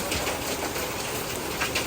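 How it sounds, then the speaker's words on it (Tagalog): Heavy rain pours steadily as a dense, continuous hiss, loud and close throughout with no voices. "Lakas po ng ulan."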